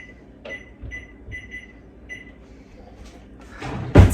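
A kitchen timer being set on the stove while eggs boil: a few short, faint beeps at the start, followed by quiet and then a louder thump and clatter at the end.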